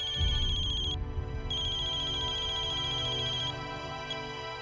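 Telephone ringtone trilling in a domestic drama scene, a loud repeating electronic ring with a short gap before it resumes, then fading into steady hum.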